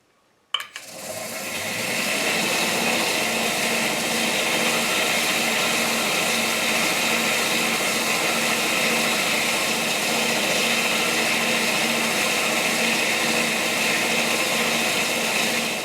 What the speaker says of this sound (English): now I've got a 220 J-Flex belt that I'm going to go in and kind of clean this up a little bit